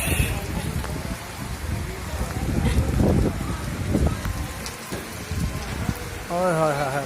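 Steady rain patters and rushes throughout, with gusts of noise and a voice briefly speaking over it near the end.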